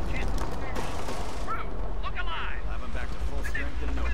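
Machine gun fire and other battle noise crackle in dense bursts in the video game Company of Heroes, steady and fairly loud, with someone talking over it.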